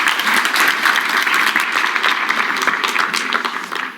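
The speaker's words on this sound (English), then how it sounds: "I feel like you're all applauding for me." Audience applause at a European Commission presentation, steady dense clapping from a large crowd that holds loud for several seconds and tapers slightly at the end.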